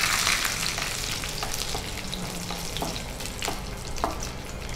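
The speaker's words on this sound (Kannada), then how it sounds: "ಉದ್ದಿನಬೇಳೆ, ಕಡಲೆಬೇಳೆ ಎಲ್ಲ ಎಷ್ಟನ್ನು ಈಗ ಫ್ರೈ ಮಾಡಿಕೊಳ್ಬೇಕಲ್ಲ?" Urad dal and chana dal frying in a pan, a steady close sizzle with faint stirring scrapes and light ticks throughout, no voices.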